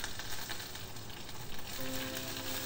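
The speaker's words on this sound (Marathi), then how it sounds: "त्यात आता फोडणीला मी पहिल्यांदा 1 पाव चमचा राई आणि पाव चमचा जिरं टाकणार आहे। ते तडतडल्यानंतर" Mustard seeds and cumin fry in hot oil as a tempering for dal, a brief soft steady sizzle heard alone.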